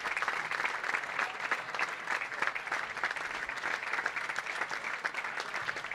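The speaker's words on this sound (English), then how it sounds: "Big round of applause and well-deserved." Steady, dense applause from the crowd at a senior world bowling championship medal round, continuous and moderately distant with no talk over it.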